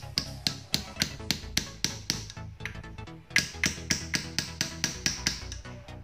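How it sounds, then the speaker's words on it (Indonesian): A hammer taps repeatedly on a motorcycle monoshock during a friction-type rear shock service on a Yamaha Vixion, sounding as a steady series of sharp metallic knocks, close and fairly loud, with no talk. "Setelah masuk, kita ketok saja menggunakan palu."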